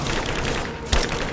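Dense, continuous gunfire from the action game Rise of the Tomb Raider, a steady rattling barrage with one sharper, louder shot near the end, no speech over it.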